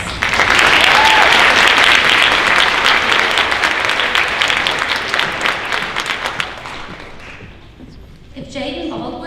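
An audience at a high school senior honors night gives a sustained round of dense clapping that gradually thins and fades near the end, followed by a spoken voice.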